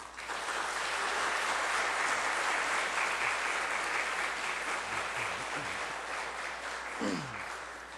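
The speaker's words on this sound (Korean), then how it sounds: "우리 귀한 교수님 나오실 때에 우리 이렇게 박수로 이렇게 맞이하시면 좋겠습니다." A church congregation applauding to welcome a visiting professor at a Sunday service, sustained broad applause that holds steady and slowly tapers.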